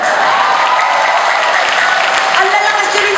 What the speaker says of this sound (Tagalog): Talagang ang lalakas niyong pumalakpak.